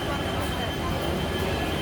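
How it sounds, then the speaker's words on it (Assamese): Inside a train station on a journey from Guwahati to Barpeta, a loud continuous rumble of rail traffic fills the space, with a voice speaking over it. "এয়া ট্ৰেইন ষ্টেচনৰ ভিতৰত সোমাইছোঁ।"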